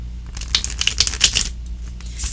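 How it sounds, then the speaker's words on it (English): A Forest of Enchantment tarot deck is shuffled by hand, a quick run of crisp papery riffles and flicks, close and fairly loud, with no talking. "And zero problem shuffling this deck."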